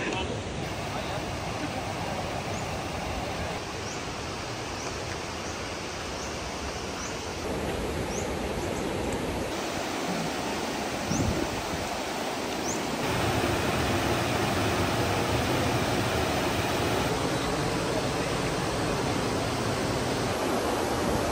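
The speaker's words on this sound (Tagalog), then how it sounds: "Lakas ng agos ng tubig." Strong river current at Tinipak River, a broad steady rushing roar of flowing water, loud and constant throughout with brief faint chirps on top.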